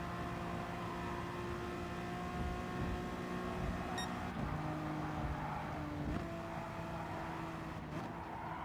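A racing car drives on the track in a racing game, a steady engine drone with a sustained whine that shifts pitch as it works through corners, fairly loud and continuous.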